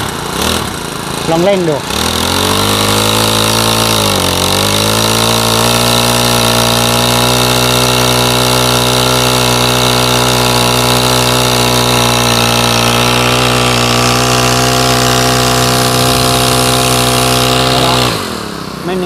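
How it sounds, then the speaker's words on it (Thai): A used Honda grass cutter engine is pulled and catches, then runs at a steady, loud buzzing drone for many seconds before cutting off at the end; a person speaks briefly. "ลองสตาร์ทดู สตาร์ทติดง่ายนะครับ เสียงเงียบนะครับพร้อมใช้งาน"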